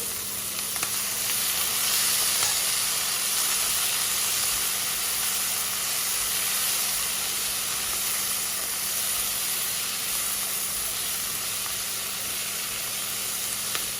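Washed broccoli sizzles in a hot pan on medium heat for a beef stir fry. The hiss and crackle are steady and close, hold at an even level throughout, and no voices are present.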